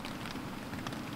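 Light rain drizzles outdoors on the Fjällräven Classic trail in Sweden, a soft continuous patter of drops, faint and steady, without any talk.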